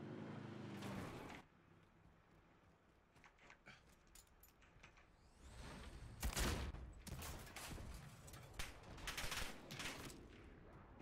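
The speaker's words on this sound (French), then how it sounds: "il nous tire dessus de l'autre bout de la carte" Gunfire in the Warzone video game, several bursts of sharp shots and rattling volleys, some loud and close and others quieter, spread across a noisy in-game background.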